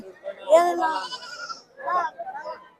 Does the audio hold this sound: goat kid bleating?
yes